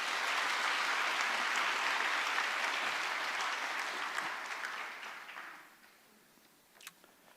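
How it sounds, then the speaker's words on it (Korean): Congregation applauding to welcome a guest speaker during a Sunday church service: sustained, dense clapping from a large indoor crowd that holds steady for about five seconds, then thins and fades out, leaving quiet with a few scattered claps. "하나님께서 보내주신 감사의 마음과 교수님을 환영하는 마음으로 큰 박수로 모시겠습니다."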